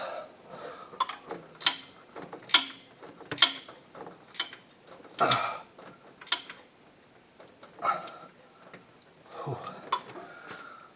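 A wrench works on a part under the hood of a 1979 Li'l Red Express, giving a series of close metallic clicks and ratcheting ticks in irregular bursts.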